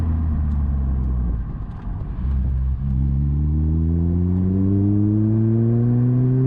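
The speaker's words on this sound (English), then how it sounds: "you actually get more noise from the engine, which is of course seated directly behind you" Lotus Elise R with its mid-mounted engine seated directly behind the cabin, revving hard while driving: a loud, steady engine note that dips briefly, then climbs in pitch through a sustained acceleration.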